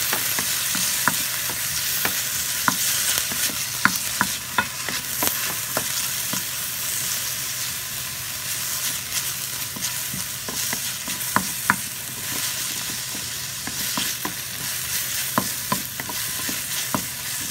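Ingredients sautéing in a pan for Filipino chicken tinola, a steady sizzle with sharp clicks of a utensil stirring and scraping throughout, close and continuous with no talking.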